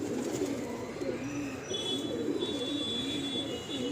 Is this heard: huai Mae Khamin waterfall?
no